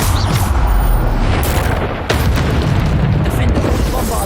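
A Bombarda spell explodes in Hogwarts Legacy, a loud, sustained booming roar with rumbling low end that briefly dips near the middle before swelling again through the battle.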